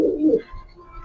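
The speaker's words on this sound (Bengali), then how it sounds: "আর এই হলো মাক্সি পেয়ারটা" A maxi running pigeon pair gives a single short, low cooing burst close by, which fades into near-quiet.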